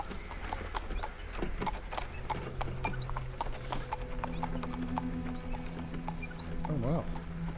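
Horses' hooves clip-clop steadily at a rest stop for changing horses, with an occasional whinny near the end, amid a busy background of ambient sounds and droning tones in the Black Book game.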